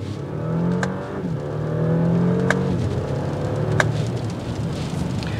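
A 2022 Audi A7 Premium Plus with a dual-clutch transmission accelerates, the engine note climbing through gears with quick shifts heard as brief drops in pitch, steady and moderately loud from inside the car.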